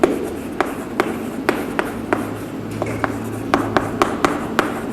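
Writing on a board during a lecture: sharp, irregular taps and short strokes of chalk or marker, fairly close, with brief quiet gaps between strokes and no voice.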